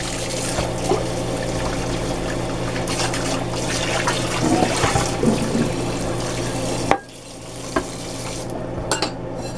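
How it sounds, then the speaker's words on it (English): Water from a tap runs steadily into a burnt pot during rinsing, a continuous splashing flow that stops abruptly near the end, followed by a few faint clinks. "Now rinse this out a little bit."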